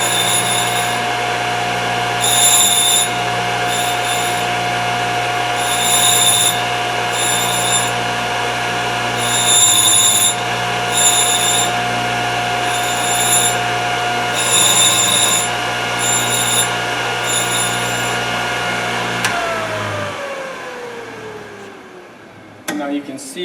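A Thorvie AV-40 sharpening machine's motor hums steadily while grinding a router bit, with intermittent high-pitched bursts of grinding contact, then the motor winds down near the end as someone talks over it.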